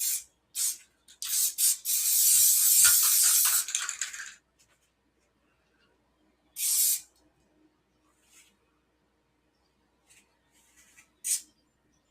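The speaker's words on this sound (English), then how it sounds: "Now I do want to do that black airbrushing again." An airbrush sprays black paint in a long continuous hiss of about four seconds, followed by several shorter bursts separated by quiet gaps, close and fairly loud.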